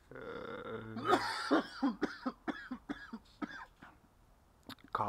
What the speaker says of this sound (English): Coughing and all.